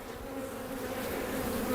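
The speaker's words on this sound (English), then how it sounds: "There are more bees than you can shake a stick at in this hive" Honey bees buzz densely inside a crowded Demaree-managed hive during an inspection, a steady close drone of many insects that swells slightly in loudness.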